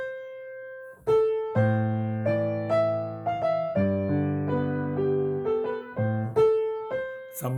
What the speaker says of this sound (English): That's the sound of a minor third.